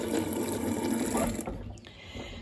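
Water running from a tap inside a chicken coop, a steady rushing splash for over a second before it cuts off, leaving quieter room noise and faint clatter.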